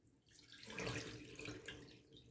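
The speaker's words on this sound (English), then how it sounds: "So I'm gonna empty the water in this thing." Murky water being poured out of a shaving bowl into a sink, a steady splashing pour that builds and then trails off, close and moderately quiet, with no talking.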